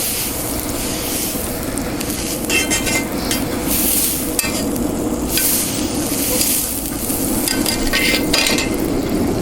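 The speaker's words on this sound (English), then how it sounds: "Here, a nice sizzle." Butter and oil sizzle steadily on a hot Mojoe griddle while surf and turf cooks. The crackle is close and continuous, with occasional scraping and stirring from a utensil.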